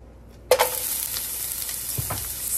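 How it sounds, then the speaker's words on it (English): Onions hit a hot frying pan with a sudden loud hiss, then keep sizzling steadily, with a little stirring clatter partway through. "now let's get our onions into this pan."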